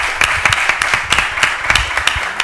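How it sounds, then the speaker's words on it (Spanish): Applause from a small audience at an energy-efficiency-in-buildings course debate, a steady wash of many hands with sharp individual claps standing out, loud and close, with no talk over it. "yo sí empiezo un aplauso porque me ha encantado"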